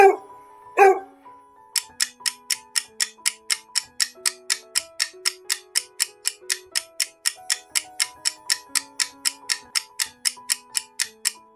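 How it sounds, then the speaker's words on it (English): A dog gives two sharp barks close by, then a steady ticking clock rhythm takes over for the rest, with no voices. "This is dog."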